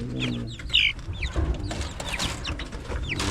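Hens cluck and chicks peep in a busy, overlapping chorus, with soft chirps scattered throughout and some low background rustle.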